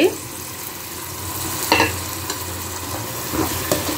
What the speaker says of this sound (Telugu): ఈ టమాటా పేస్ట్ని కూడా పచ్చి వాసన పోయే వరకు ఆయిల్లో ఫ్రై చేద్దామండి